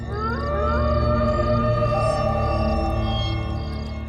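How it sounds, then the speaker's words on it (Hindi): A drawn-out, wavering tonal wail of a fox crying at night, steady and fairly loud, with layered sustained tones and no speech. "ये तो किसी लोमड़ी की रोने की आवाज लगती है।"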